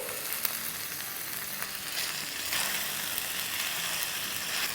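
Ginger and garlic paste with onions sizzle steadily in a pan over a medium-low flame, a continuous crackling fry broken by a few soft stirring clicks, with no voices.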